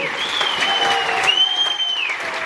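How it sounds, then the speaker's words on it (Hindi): Clapping from a seated audience in a hall at a Vestige business meeting, steady and moderate, with a tonal voice or sound running over it. "तो तालियां क्यों कम है?"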